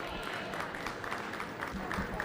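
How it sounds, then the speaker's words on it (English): Audience applause at a youth meat goat show, a steady wash of clapping from a crowd that carries through the whole stretch at moderate level with no break. "Let's give them a round of applause."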